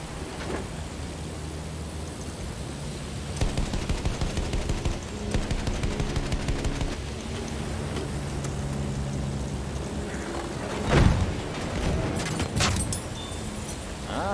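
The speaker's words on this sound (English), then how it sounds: "so somebody shooting something" Gunfire in a video game battle on a Sinai desert map, with sustained machine-gun bursts rattling through most of the stretch and a louder blast near the end, no one speaking.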